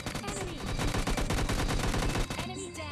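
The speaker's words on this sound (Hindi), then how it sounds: "तभी मेरे ऊपर कोई बंदा फायर करता है" Bursts of gunfire in the mobile shooter PUBG Lite, a rapid mix of overlapping shots at fairly close range that rattle on almost continuously and thin out near the end.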